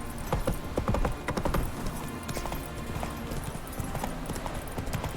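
Roach, Geralt's horse in The Witcher 3 on PC, trots along with a quick, steady clip-clop of hooves, fairly quiet and close, with faint game ambience behind it.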